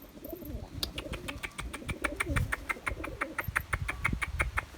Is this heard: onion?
no